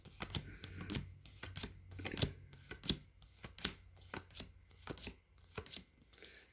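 Tarot cards being shuffled by hand, a series of quick riffling and slapping bursts in an uneven rhythm, close and fairly quiet, with no talking.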